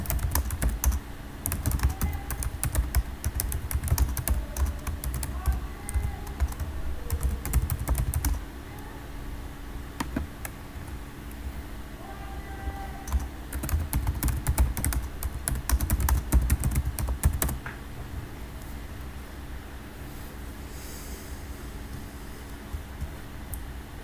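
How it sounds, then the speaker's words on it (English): Keys clacking on a computer keyboard in a stretch of typing, irregular bursts of taps with brief pauses, close and moderately loud over a steady low hum, no voices. "Just a minute, I am typing."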